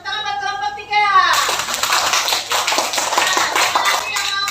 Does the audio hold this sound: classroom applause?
yes